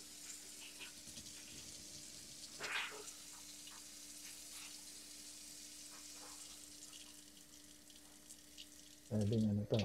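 Water runs softly and steadily from a newly installed faucet over a granite countertop, a faint continuous splash with a low hum, before a voice cuts in near the end.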